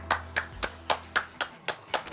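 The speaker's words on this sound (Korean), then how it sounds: "이거 진짜 박수 치고 가야죠" Hands clap in a steady run of about nine crisp claps, close and fairly quiet, with no talk over them.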